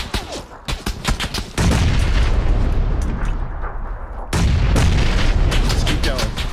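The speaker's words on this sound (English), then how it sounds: "They just launched grenade back here." Two heavy grenade blasts in a video game shooter erupt into long, loud rumbling roars, with sharp gunfire cracks scattered before and between them.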